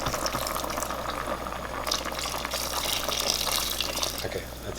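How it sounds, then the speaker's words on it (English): A cup of water poured into a pot of goat soup makes a continuous splashing gush at close range, steady from start to finish, with no voices over it. "let's add 1 cup of water"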